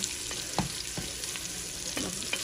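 Garlic and onion frying in a pan for pork adobo, a steady bright sizzle with a few sharp spatula scrapes and stirring clicks scattered through it.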